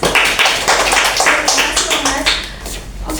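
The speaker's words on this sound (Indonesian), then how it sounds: "Beri aplaus buat Mamas." Classroom applause for a student during a junior high school mathematics lesson: a burst of close, loud, brisk clapping from a small group that continues steadily for about three seconds.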